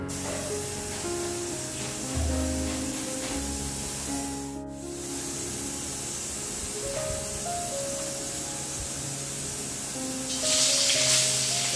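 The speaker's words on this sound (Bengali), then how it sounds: "এবার তাহলে মাছ ভাজাটা শুরু করি" Fish fries in a pan, giving a steady, loud hiss that runs without a break, with a brief dip partway through and a brighter burst of sizzle near the end.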